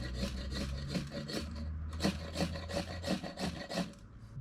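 A FOBOS MKB7 knife spine rasps down a ferro rod in about a dozen rapid, rhythmic scraping strokes that throw sparks, heard up close with a brief pause midway and no speech.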